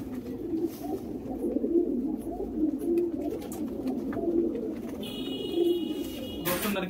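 Red pigeons with white eyes coo steadily in a low, repeated rhythm at close range, with faint bird chirps and a brief high whistle-like tone near the end.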